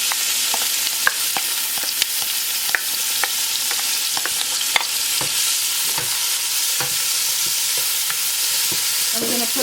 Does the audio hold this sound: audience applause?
no